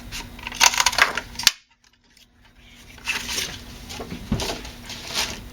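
A paper punch stamps out a star shape for a flower tutorial, giving sharp clicks and crunches close up, then a short silence followed by lighter rustling and a firm snap.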